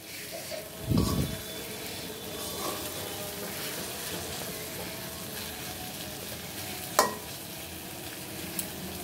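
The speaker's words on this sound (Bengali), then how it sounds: "দেখো বন্ধুরা শাক ভাজি তো করে নিয়েছি" Gima greens stir-fry in a pan, giving a steady low sizzle with occasional scraping stirs, a louder clatter near the start and another sharp clink later, with no voices.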